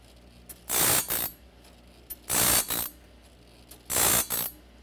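TimberKing auto sharpener grinding a saw blade, motor running in three separate loud bursts, each about half a second to a second long, with quiet pauses between and no talking.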